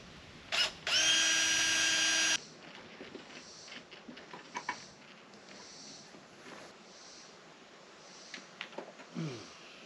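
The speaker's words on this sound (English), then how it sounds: "And we're just going to drill these out." Power drill whining briefly as it bores holes in metal saddlebag mount pieces, one short burst then a longer steady run, close up, followed by quiet handling clatter.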